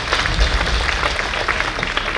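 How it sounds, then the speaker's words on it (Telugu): An audience at a church festival for Mother Mary applauds in a steady, dense, loud wash of clapping that lasts throughout. "అలాంటి తల్లికి ఒక్కసారి గట్టిగా చప్పట్లు కొట్టి"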